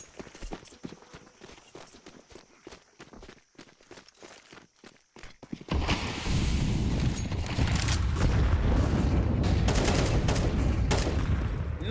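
Counter-Strike match gunfire: a run of sharp individual shots and footsteps gives way to a dense, continuous burst of rapid fire and loud game noise.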